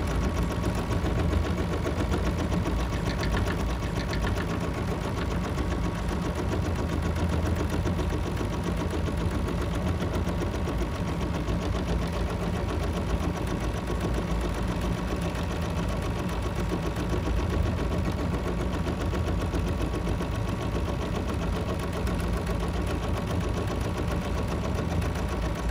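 A Bernina sewing machine runs continuously while couching, a steady even mechanical hum holding at a constant level for the whole stretch, with no talking.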